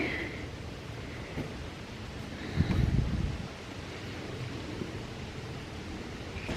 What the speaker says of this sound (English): It's windy, Donnie.